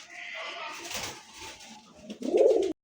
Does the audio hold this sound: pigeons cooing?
yes